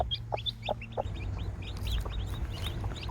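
Chickens clucking in short bursts with high peeping newly hatched yellow chicks scattered throughout, over a steady low hum.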